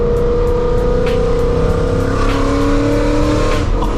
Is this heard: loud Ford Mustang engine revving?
yes